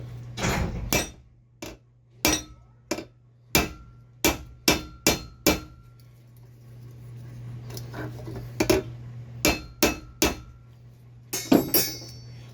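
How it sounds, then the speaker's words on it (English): A ball peen hammer strikes an oil pump part clamped in a vise for an early Duramax, about fifteen sharp metallic blows in uneven clusters, close and loud against a steady background hum. "I'm going to stick it on the vise and take a ball peen to it"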